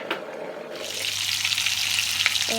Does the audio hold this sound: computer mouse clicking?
no